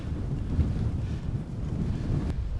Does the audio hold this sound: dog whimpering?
no